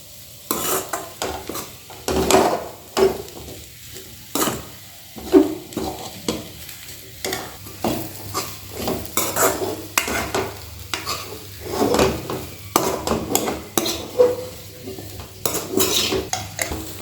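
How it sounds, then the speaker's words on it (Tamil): A spoon or spatula stirs Chinese potato fry (small tubers) in a pan over a low flame, with repeated scraping and clinking against the metal and a soft sizzle underneath, steady and close, with no talking. "சிம்மில் வச்சு கிளறும்போது சிம்மில் வச்சுக்கோங்க, இல்லைன்னா அடி பிடிச்சிரும்."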